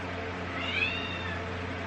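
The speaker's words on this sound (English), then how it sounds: "I have a kitty cat that wants to go into the bathroom with my daughter, and that's why you're hearing that crying" A pet cat cries to be let into a bathroom, one drawn-out meow rising and falling at moderate distance over a quiet indoor background.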